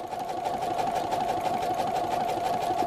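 A regular domestic sewing machine stitches a close satin stitch around appliquéd fabric circles, running in a steady, continuous hum with a fine rapid needle rhythm, close and even throughout with no talking.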